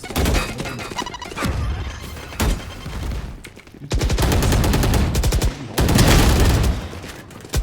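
Gunfire and explosions in a Valorant collegiate esports match between UAlbany and UTK, a loud, dense barrage of rapid shots and crashing blasts that surges in waves, with no voices over it.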